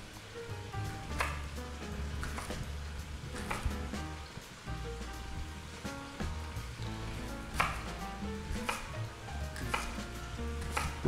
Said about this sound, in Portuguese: Porque eu estou cortando grosseiramente assim, porque depois a gente vai bater tudo aqui na panela.